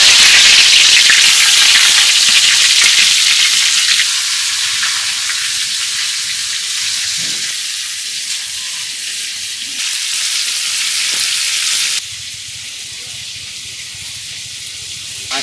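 Turmeric- and salt-rubbed chicken hits hot oil in a wok, a loud, steady sizzle that gradually settles into a softer hiss, with occasional stirring scrapes.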